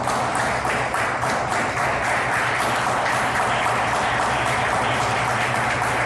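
A church congregation applauds in a loud, continuous roar of clapping that holds at full strength without a break.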